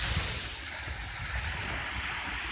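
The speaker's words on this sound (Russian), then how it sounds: "Море шумит" Sea surf washes steadily onto the shore of the Dzharylgach spit, a continuous broadband rush of breaking waves mixed with wind buffeting the microphone, with no voices.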